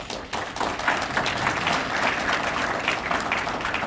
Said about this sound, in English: I think a round of applause for Council Maldonado.